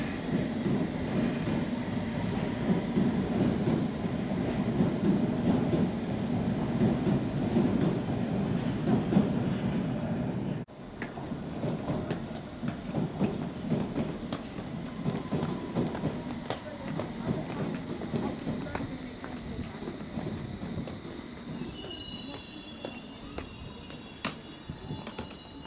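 London Underground and Overground trains at Whitechapel station rumble and clatter continuously along the platform, loud and close, ending with high metallic brake squeals as a train slows.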